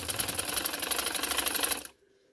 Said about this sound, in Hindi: अब मैं आके इसको स्टिचिंग करती हूँ